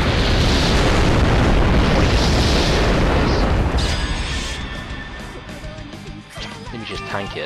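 A Mind Claw Slash attack in The Awakened Fate Ultimatum: a loud, roaring burst of explosive noise lasting several seconds, then trailing off into quieter game effects and chimes.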